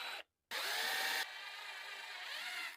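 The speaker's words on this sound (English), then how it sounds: "I like drilling the 2 1/4-inch holes next to each other" A power drill bores quarter-inch holes in a salvaged piece for a fishing rod storage rack, a short burst, a brief pause, then a steady loud whine that drops slightly in pitch as the bit cuts through.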